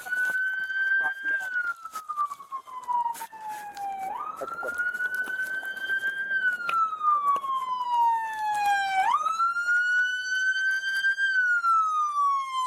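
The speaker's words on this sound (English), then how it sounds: "There was a reason the officer couldn't disable his car's siren" A police siren wails steadily, its pitch sweeping slowly up and down in long cycles, loud and close throughout.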